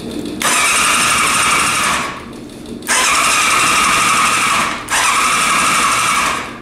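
A moped engine revs in three loud bursts, each running about two seconds with short dips in between, sounding high-pitched and buzzing like a small two-stroke being tested after a water problem was fixed.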